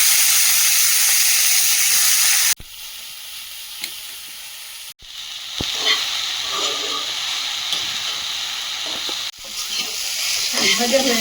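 Brahmi greens land on onions and green chillies frying in hot oil, a loud hissing sizzle that drops and surges back in stages as the greens go in and are stirred in the pan.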